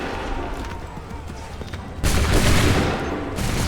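Musket volley fire in the Assassin's Creed 3 video game: a loud burst of massed gunfire crackles midway through, set against ongoing battle noise with shouted commands.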